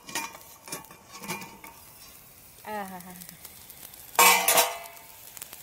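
Fish curry bubbling in a pot over an outdoor fire beside a river, with scattered clinks of a utensil against the pot and a louder burst of sizzle near the end.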